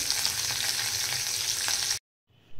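Dal frying with plenty of curry leaves for a Ganesh visarjan prasad, a loud, even sizzle that stops abruptly near the end, then briefly returns.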